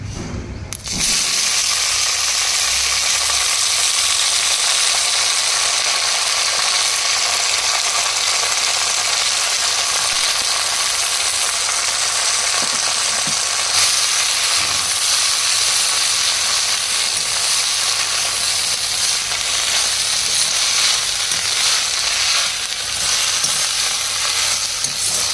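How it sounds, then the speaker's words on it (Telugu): Chopped ingredients fry in a pan with a loud, steady sizzle that runs throughout, broken now and then by faint stirring scrapes. No talking. "ఇప్పుడు ఇది కూడా ఫ్రై చేసుకోవాలి"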